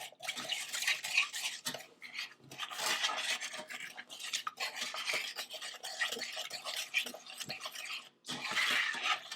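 Three egg yolks with a cup of milk being stirred in a bowl for a simple sour cream lemon pie, a steady run of wet scraping and light clinking strokes, close and fairly loud with brief pauses, no talking.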